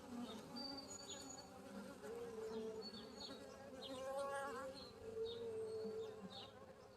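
Bees hum steadily around a hive in the Bee Aware video game, a continuous insect drone with scattered high game tones above it, holding steady for several seconds with no talk.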